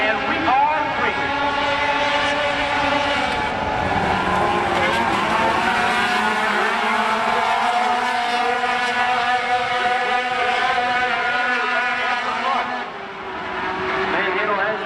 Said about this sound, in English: 8 laps to heat race number 2, and we are racing